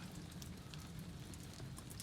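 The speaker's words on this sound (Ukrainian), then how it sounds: "Ось хіраче дощ з самого ранку, цілий день." Heavy rain falls steadily at an outdoor solar panel installation site, a faint, even hiss of drops with no pauses and no voices.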